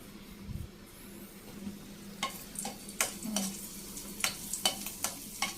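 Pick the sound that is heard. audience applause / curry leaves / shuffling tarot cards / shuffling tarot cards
curry leaves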